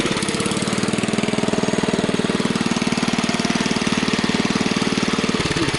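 A Kohler K141 small engine fires and runs at a steady, loud chugging idle with a fast even pulse, then cuts off abruptly near the end.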